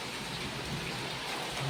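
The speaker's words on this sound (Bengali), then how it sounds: "এই দেখো শিল পড়তে শুরু করেছে" Heavy rain mixed with falling hail pours down in a dense, steady roar close by, with no voices.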